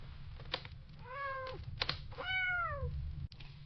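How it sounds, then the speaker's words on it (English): A cat meows twice in drawn-out, rising-and-falling calls, close and clear over a low steady background hum, with a few soft clicks and knocks around them. "Should we name that cat?"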